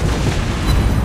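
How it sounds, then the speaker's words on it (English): Battleship main guns firing and shells hitting in World of Warships Blitz, heard as a loud, continuous low boom with a rumbling tail that fills the whole short moment. "Shot! Target hit!"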